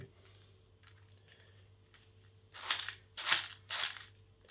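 A few quick rasping strokes of sandpaper on a skate part, three short scratchy bursts after a quiet stretch with a faint steady hum underneath.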